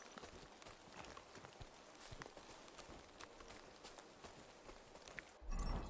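A horse's hooves clip-clop in the video game Kingdom Come Deliverance II, a quick, even run of soft thuds at moderate distance. A brief low rumble comes at the end, with no clear talk.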